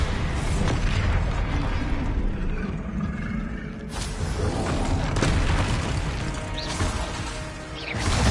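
Spell explosions from the Bombarda charm in the video game Hogwarts Legacy, a continuous loud, dense booming blast that rumbles without pause.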